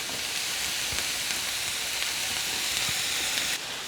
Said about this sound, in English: Get a good saute on that, give it a couple of minutes.